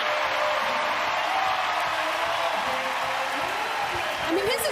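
Home crowd at a Texas A&M volleyball match during the fifth set of an NCAA third-round game against Wisconsin, a steady loud roar of cheering filling the arena throughout, with a commentator talking over it.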